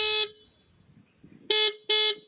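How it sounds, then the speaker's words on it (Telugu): Horn of a Yezdi Adventure motorcycle, three short loud bright blasts: one at the start, then two quick toots in a row after a brief near-silent pause. "ఇప్పుడు మీకు హారన్ సౌండ్ వినిపిస్తాను."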